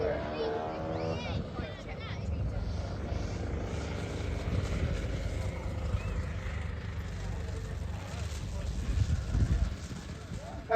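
A 52% scale Skip Model Designs Ultimates model aeroplane makes a slow fly past at an airfield, its engine droning and rising as it nears, with someone talking over it throughout.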